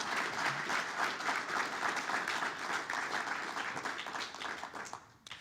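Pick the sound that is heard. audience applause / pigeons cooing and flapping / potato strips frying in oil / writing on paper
audience applause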